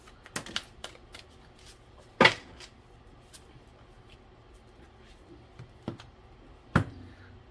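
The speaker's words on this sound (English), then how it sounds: "These are big. They're kind of hard to shuffle with." Large tarot cards being shuffled by hand, heard as sparse, quiet riffles and sharp taps scattered across several seconds, with a couple of louder snaps.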